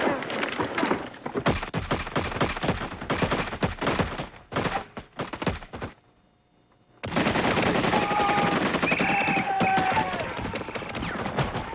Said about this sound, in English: Every man, fire 3 rounds